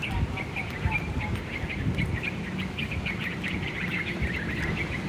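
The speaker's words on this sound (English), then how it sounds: "Oh, look, there's birds out here." Birds calling outdoors in Thailand, repeated chirps and twitters over a constant rumble of background noise and low murmuring, steady throughout.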